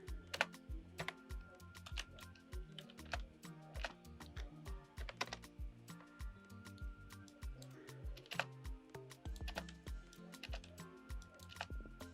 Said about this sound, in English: You can just type them.